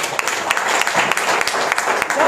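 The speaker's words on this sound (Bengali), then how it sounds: "নতুন একটা করতালি" Audience applause greeting new members at a gathering: a dense, steady burst of many hands clapping close by, with a voice audible beneath it.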